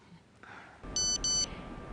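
A phone message notification sounds as two short, bright electronic beeps in quick succession, clear and alone against a quiet room.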